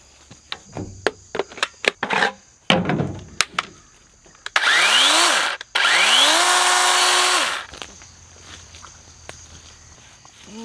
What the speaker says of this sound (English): Dewalt electric cordless battery operated chainsaw